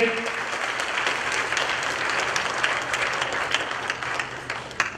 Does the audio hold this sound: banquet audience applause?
yes